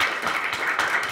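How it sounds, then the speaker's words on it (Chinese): A short burst of audience applause at a 2017 Taiwan internet governance forum talk, dense and steady clapping that fills the whole moment at moderate loudness. "掌声鼓励一下"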